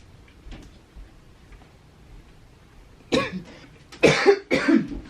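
A person coughs, two or three harsh, loud bursts close by after a quiet stretch with faint ticking in the background.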